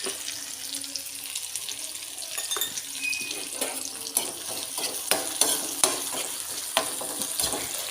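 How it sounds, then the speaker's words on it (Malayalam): Garlic and shallots fry in hot oil, a continuous crackling sizzle broken by sharp scrapes and taps of stirring. "അരിഞ്ഞ് വെച്ച വെളുത്തുള്ളിയും കൊച്ചുള്ളിയും എണ്ണയിലേക്ക് ഇട്ട് കൊടുക്കുക. എന്നിട്ടൊന്ന് ഇളക്കി കൊടുക്കുക."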